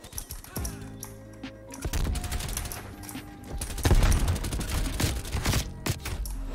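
Rapid bursts of XM4 rifle fire crackle in a Call of Duty match, repeated fusillades of close gunshots with game effects layered underneath, growing louder and denser toward the end.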